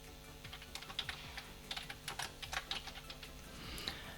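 Rapid clicking of keys on a computer keyboard while entering a company name, light close taps in quick uneven bursts, fairly faint, with no talking.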